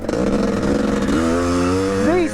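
An automatic 500cc two-stroke enduro dirt bike is ridden. Its loud, close engine drones steadily throughout, and the pitch climbs in rising sweeps near the end.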